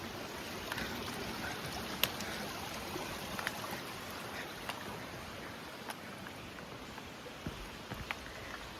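Continuous rushing water from a small trailside waterfall on the Ramona Falls hike fills the scene, steady and broadband like a small cascade, with occasional faint splashes or drips, no voices.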